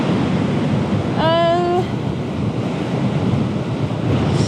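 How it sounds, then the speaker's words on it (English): Strong wind on a Wild Coast beach roars steadily across the microphone over crashing surf, with a brief high chirping tone cutting through near the start. "It's quite windy today."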